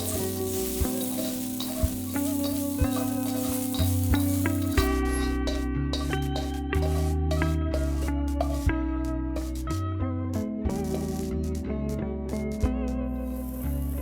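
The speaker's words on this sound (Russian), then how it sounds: "самый последний продукт, который мы сегодня тоже должны обжарить, это острый перец" Hot pepper frying briefly in oil for a Korean cold noodle soup, a steady loud sizzle with stirring clicks and scrapes throughout, no voices.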